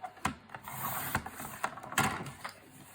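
A paper trimmer cuts through A4 cardstock, with a series of close, sharp mechanical clicks and scrapes from the blade and guide.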